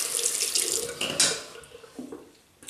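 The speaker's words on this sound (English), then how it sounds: "Just dip the brush in water, and that'll give it another boost." Water runs at a bathroom sink as a shaving brush is dipped, with a splashy rush up close that fades toward the end, broken by a few small sloshes.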